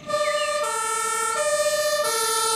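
A toy fire engine with a ladder plays an electronic two-tone siren, a loud, close wail that switches pitch in a steady alternating pattern.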